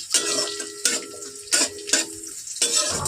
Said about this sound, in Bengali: পেঁয়াজ আর রসুনটা একটু নাড়াচাড়া করে নেবো।